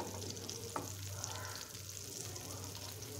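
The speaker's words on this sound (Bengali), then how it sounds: "চুলার আঁচটা মিডিয়াম চুলায় মাঝামাঝি রেখে ভেজে নিতে হবে" Thick eggplant slices frying in oil over medium heat give a soft, continuous hiss and crackle, with one faint clink partway through, heard close but quietly.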